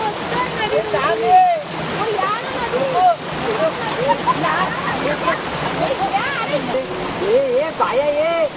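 River water rushes steadily in the background while people talk and call out playfully over it, with voices dominating and the flow a constant wash underneath.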